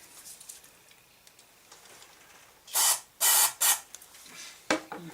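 Short hissing bursts of carburetor cleaner spray into the carb of a Kohler CV125 engine on a John Deere STX30 mower, three close sprays in the middle and one more near the end, over quiet background.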